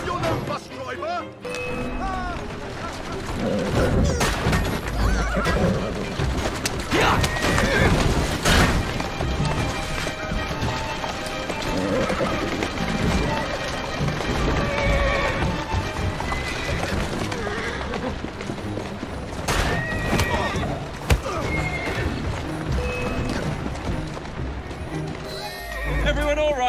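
In Assassin's Creed Syndicate, a horse gallops with continuous hoof clatter and occasional whinnies amid a loud, busy mix of street and carriage noise, with crashes and voices cutting in throughout.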